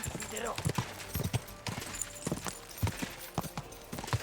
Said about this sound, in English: See, the problem is my horse does not go very fast.